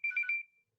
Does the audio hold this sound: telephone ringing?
yes